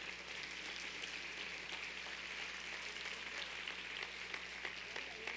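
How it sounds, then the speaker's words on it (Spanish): A church congregation applauds in praise to God, a steady distant wash of clapping that stays soft and even throughout. "Aplaude al Señor."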